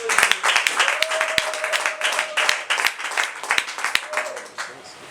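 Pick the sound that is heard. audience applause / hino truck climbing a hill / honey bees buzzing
audience applause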